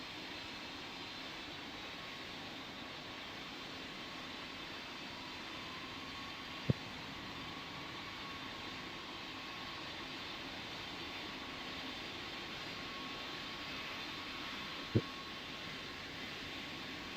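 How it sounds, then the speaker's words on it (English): Airliner touching down on a runway in the Roblox PTFS flight simulator game, a steady broadband jet roar holding even throughout, with two sharp brief knocks standing out, no voices. "very firm landing. JetBlue vacate the runway."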